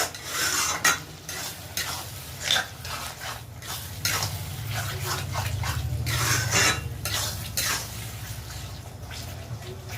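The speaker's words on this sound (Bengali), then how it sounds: "ক্রিমটা দিয়ে একটু হালকা হাতে নাড়াচাড়া করে" Paneer bharta with cream being stirred in a pan: repeated scraping strokes of a spatula against the metal, rhythmic and close, over a soft bubbling sizzle, with a few sharper clinks.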